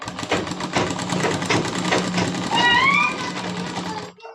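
A sewing machine runs steadily, stitching a frock neckline in a dense continuous whir with a rapid needle rhythm, fairly loud and close. It stops just before the end, and a brief voice-like tonal sound rises over it midway.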